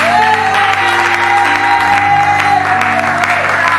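A church congregation claps and cheers in praise of the Lord during a worship service, loud sustained applause with a sung or held tone running underneath.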